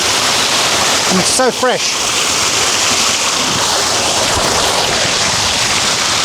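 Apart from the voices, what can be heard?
waterfall rushing on a property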